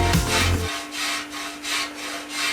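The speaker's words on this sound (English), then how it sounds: "I like to use this side of the grater to grate the ginger." Fresh ginger grated against the side of a metal grater for a bedtime tea, giving a series of rhythmic rasping strokes, close and fairly loud, with a thump at the start and no talking.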